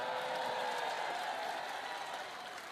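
Indonesian audience at a Christmas gathering applauding steadily, a dense, sustained clapping that holds for nearly three seconds and eases slightly at the end, with no talk over it.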